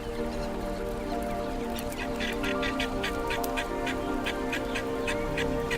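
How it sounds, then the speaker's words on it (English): A flock of helmeted guinea fowl in the wild giving repeated harsh, rhythmic cackling calls over a steady hum of background noise. "the helmeted guinea fowl burst onto the scene with their characteristic hustle and boundless"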